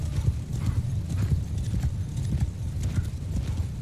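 Horse hooves pound in a rapid, steady clip-clop gallop in the medieval battle game Mount & Blade II Bannerlord, loud and continuous throughout with no speech.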